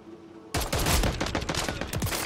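Rapid automatic gunfire in the video game Call of Duty, a burst of loud repeated shots starting abruptly after a quiet moment and continuing steadily to the end.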